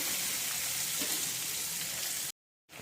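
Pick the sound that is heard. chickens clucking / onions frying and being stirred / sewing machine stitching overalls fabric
onions frying and being stirred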